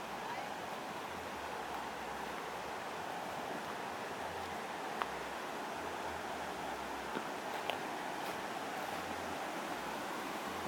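A river flowing clear, a steady broadband rush of water with wind buffeting the microphone, heard alone with no talk.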